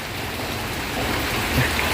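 Light rain falls outdoors as a steady, close hiss of drops on surfaces, even and unbroken, with a slight rise in level toward the end.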